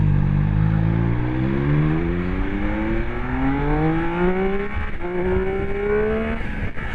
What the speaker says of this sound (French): Et ce son là de 3 cylindres.